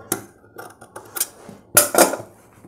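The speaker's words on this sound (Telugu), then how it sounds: "ఇప్పుడు ఈ మార్జిన్ కట్ చేసుకుందాం" Scissors snip the seam margin of fabric for a Punjabi dress top in a series of short, crisp metallic cuts with brief pauses between them, close and clear against a quiet room.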